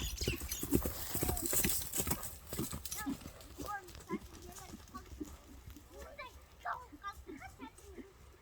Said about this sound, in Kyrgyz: Эми мына 3-чү номердеги ат чыкты, көрүңүздөр.